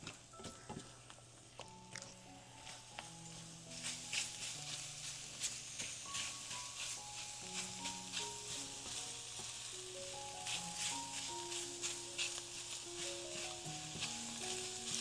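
Scrambled eggs sizzle and crackle steadily in a pan on a stovetop burner, a continuous close frying hiss with faint tonal beeps and clinks over it and no talk.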